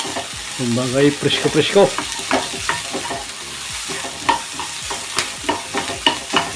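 Onions sizzle as they are sautéed in a pan for papaitan, with repeated stirring scrapes and crackles at a steady pace while a person speaks over the cooking.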